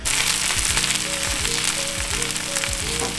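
Spinach wilting in a hot pan gives off a steady, loud sizzle and crackle. Faint stirring thumps and utensil scrapes recur through it, and no one talks.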